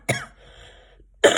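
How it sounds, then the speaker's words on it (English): A single sharp cough bursts out near the start, followed by a quiet stretch of faint hum and then a second loud cough at the end, close and clear with no talking. "Looks like I have a little cough too"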